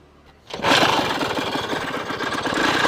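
A petrol engine on a battery sprayer vehicle catches and starts after a short quiet moment, then runs at a steady, loud, close-up chugging idle with an even rapid pulse.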